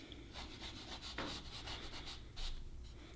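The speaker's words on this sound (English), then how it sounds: "pick up some of the pastel from the stick, and then we'll gently rub it onto the beach" A cotton round rubs pastel onto tinted pastel paper in soft, quiet, repeated back-and-forth strokes, close up and alone with no voices.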